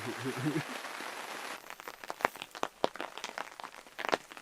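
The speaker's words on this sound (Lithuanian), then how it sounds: "lietutis į pabaigą" Steady patter of rain on a surface at a lakeside fishing spot, close and continuous, with sharp droplet taps and a brief low murmur near the start.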